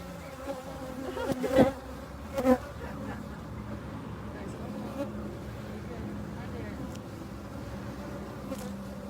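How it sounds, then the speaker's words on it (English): Bees buzz steadily and close around a hive as beekeepers work it with smoke, a dense continuous drone with a few louder passes near the start; people talk softly underneath. "there are actually bees everywhere right now"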